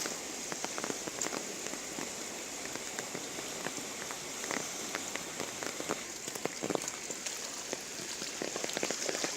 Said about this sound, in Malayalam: ആരംഭിച്ച മഴ ഇപ്പോഴും തുടരുകയാണ്.